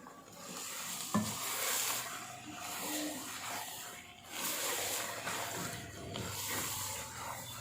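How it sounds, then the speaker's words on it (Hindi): Whole green chillies are mixed into chicken, potato and spinach in a pot, producing a close, steady sizzle broken by soft scraping and stirring strokes in uneven waves. "अब हम इसके अंदर साबुत सब्ज़ मिर्चें डालेंगे और इसको मिक्स करेंगे।"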